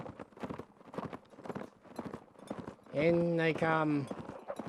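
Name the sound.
cavalry horse hooves galloping in Mount & Blade video game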